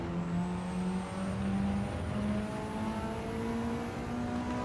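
A race car engine at Monza in Gran Turismo 7 holds a steady high whine as it climbs through the higher gears, loud and continuous with a gradually rising pitch.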